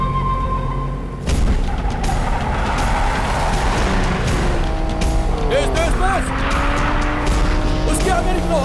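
Cars race in a movie chase scene, engines roaring loudly and close with tires squealing and skidding in repeated chirps, while someone shouts over the action.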